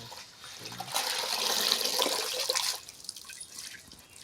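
Tender roasted food is dropped into water at a Makar Sankranti gathering, giving a close, steady rush and splash of water that swells for about two seconds, then fades to a softer trickle.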